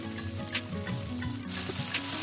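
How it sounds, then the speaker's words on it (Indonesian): Chopped green chilies sauté in about three tablespoons of oil, a close, steady sizzle with occasional stirring scrapes and no talking. "yang sudah dipotong-potong tadi ini ditumis sebentar sampai sedikit layu"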